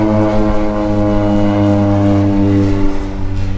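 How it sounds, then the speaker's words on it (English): A crop-dusting spray plane drones overhead as it works a neighboring field, its propeller engine giving a loud, steady, continuous roar throughout with no talk. "Man, I love it when these spray planes come and do our neighbor stuff."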